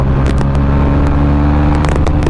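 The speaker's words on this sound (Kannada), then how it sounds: "ಇದ್ರ ಪವರ್ ಚೆಕ್ ಮಾಡೋಣ ಫಸ್ಟ್ ಗೇರು ಸೆಕೆಂಡ್ ಗೇರ್" A Mahindra Mojo motorcycle pulling hard through its gears on the road: a loud, steady, close engine drone with strong low harmonics and intermittent wind buffeting thumps.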